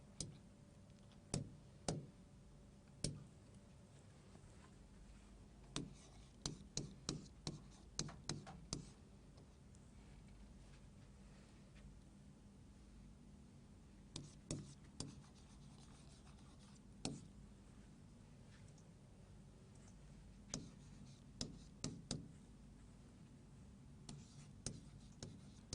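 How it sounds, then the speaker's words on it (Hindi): Chalk or pen writing a question on a classroom board during an English grammar lesson: faint, scattered taps and short scratchy strokes in irregular bursts against a quiet room hiss, with no one speaking. "तब तक मैं बाकी बच्चों के लिए दूसरा सवाल लिख देती हूँ।"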